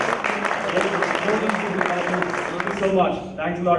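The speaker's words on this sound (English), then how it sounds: "a big round of applause for all the teachers and the alumni" An audience claps steadily at a university alumni day gathering honouring teachers and alumni, a dense wash of applause running beneath someone speaking over it.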